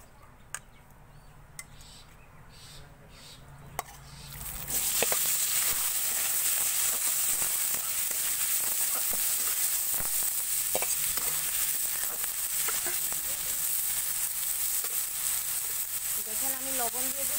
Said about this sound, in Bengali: আমি এখন বেগুনটা ভেজে নিব